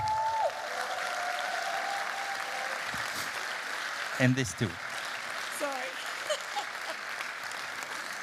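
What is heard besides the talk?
audience applause at an award ceremony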